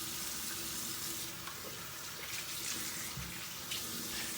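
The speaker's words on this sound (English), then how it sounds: "you want to rinse off your hands and stuff with the oil" Water runs steadily from a faucet as hands are rinsed clean of shaving oil at a sink, a constant close hiss that carries on alone without talk.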